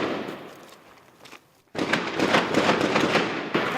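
Outgoing gunfire and heavy explosions in Raqqa, Syria: a faint rumble, then from near two seconds a loud, sustained barrage of overlapping sharp bangs and cracks, with another sudden blast near the end.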